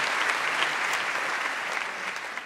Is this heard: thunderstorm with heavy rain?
no